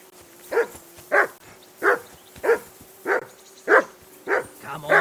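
A dog in the video game Kingdom Come: Deliverance 2 barks about eight times in a steady, evenly spaced rhythm. The barks are close and loud, with a low hum underneath.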